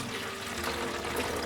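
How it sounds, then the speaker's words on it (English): Water poured from a glass during a vitreous enamel washing step in an enamel workshop, a soft continuous splashing trickle, fairly faint and steady throughout. "I think I'm gonna pour a little bit more from this glass"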